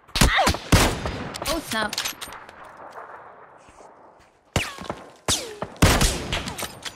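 PUBG gunfire with a 7.62mm assault rifle: loud, close bursts of rapid shots crack out at the start and again near the end, separated by a quieter stretch of in-game ambience, while a player briefly speaks.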